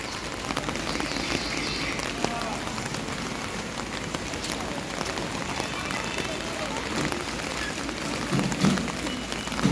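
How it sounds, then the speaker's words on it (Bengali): Steady rain falls outdoors in a continuous, even patter on surfaces, with a voice speaking over it. "বৃষ্টি পড়ছে"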